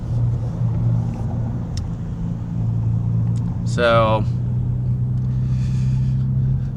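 A car engine hums steadily while driving, a low continuous rumble with road noise throughout, close and fairly loud, and a brief spoken word near the start.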